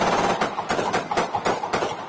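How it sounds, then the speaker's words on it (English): Gunfire aimed at a home in Whitby, caught on a police audio recording: a rapid string of roughly eight muffled, distant-sounding shots at a steady pace over a constant noisy background. "Durham Regional Police released this audio of gunfire aimed at a Whitby home."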